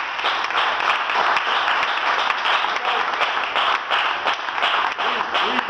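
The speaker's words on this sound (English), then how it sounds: "Brother Sammy Simolamano, I think we should give him a round of applause." A crowd at a Christmas charity event feeding the needy applauds steadily for several seconds, a dense, even wash of clapping with no pause.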